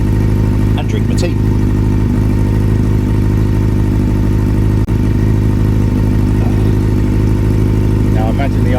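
Honda CB400 Super Four motorcycle engine idling on choke, a loud, steady, close-up four-cylinder burble with an even mechanical beat and faint clatter, holding constant throughout with a few soft background knocks.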